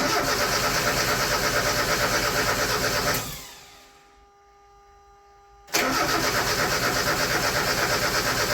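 A 1994 Mazda Miata cranks without starting, its starter grinding loudly and steadily, cutting out for a couple of seconds, then resuming at full volume.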